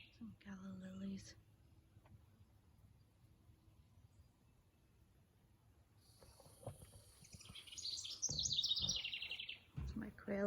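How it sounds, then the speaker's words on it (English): Small birds chirp and call inside a backyard quail aviary, with an early burst of chirps, a quiet stretch, then a louder run of tweets near the end, under light background noise. "It's my quail aviary."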